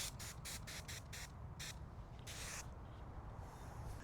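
Rinseless car wash solution is sprayed onto a car in a quick series of short hissing bursts from a trigger sprayer, followed by one longer spray and quieter spritzes, close and clear.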